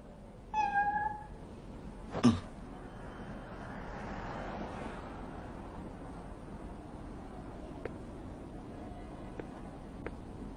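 A black cat meows twice in short, close calls early on, then quiet room tone with faint distant rumble and a few soft ticks follows.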